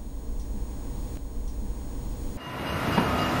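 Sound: tram passing in Amsterdam

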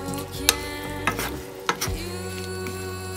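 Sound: stirring basil into a chicken and mushroom stir-fry

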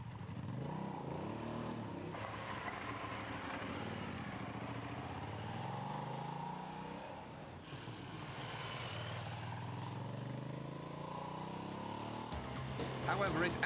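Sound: Aprilia 750 Dorsoduro motorcycle engine while riding

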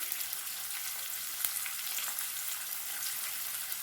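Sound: sautéing chopped onions in a pan for chicken gravy

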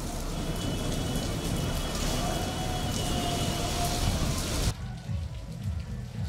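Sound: heavy rain with wind on streets

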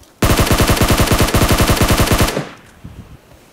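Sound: gunfire in the video game PUBG Mobile

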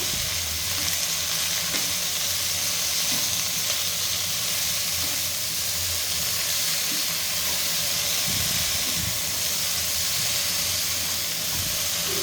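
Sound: stirring broccoli fry in a pan

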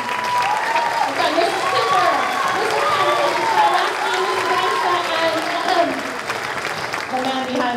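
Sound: audience applause at school concert

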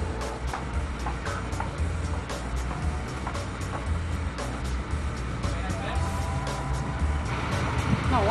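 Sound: bus passing on the street

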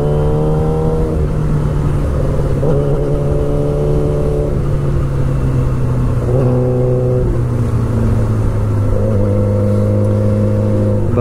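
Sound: Yamaha R6 motorcycle engine revving while riding

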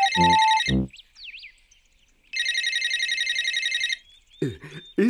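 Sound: mobile phone ringing

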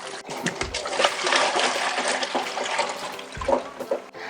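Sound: rinsing salted tamarind in water

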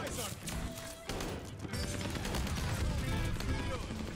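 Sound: H4 Blixen SMG gunfire in the video game Call of Duty Warzone

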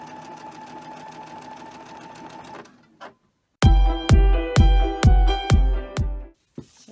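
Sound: sewing machine stitching fabric

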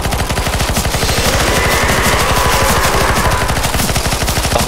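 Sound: gunfire shooting at a spider in video game CS:GO Zombies

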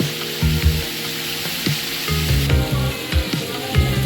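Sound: food frying in a little oil

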